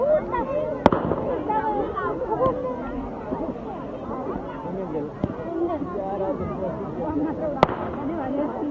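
Firecrackers go off in a few sharp, separate bangs over steady crowd chatter and excited talk at an outdoor gathering during a final.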